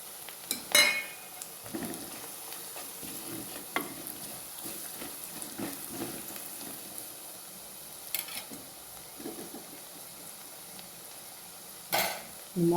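Coriander powder being stirred into hot oil in a pan for a Kerala fish curry, producing a soft sizzle with scattered scrapes and clinks of a utensil against the pan, brief and faint.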